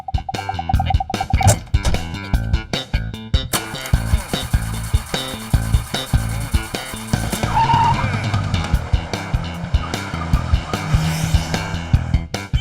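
A government jeep pulls away with tyre squeal and revving, loud and close, amid music-like clatter and bangs that run throughout.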